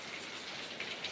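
Rain patters in a village setting, a brief continuous hiss of falling drops with slight swells, no voices over it.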